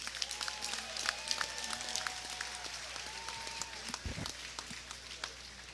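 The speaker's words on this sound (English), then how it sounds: "a round of applause for one hell of an opening contest" A crowd applauds at an MMA event, the clapping steady and moderately distant, spread across the whole stretch under faint background noise.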